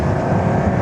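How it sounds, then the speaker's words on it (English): A Suzuki Hayabusa sport motorcycle held in a wheelie, its engine note a steady loud drone close by, with no talk over it. "he is wheeling the Busa"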